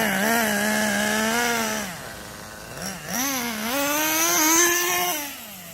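Schumacher Menace GTR RC car running loud and close, its motor whine climbing in pitch then dropping and rising again as it works through its three speeds.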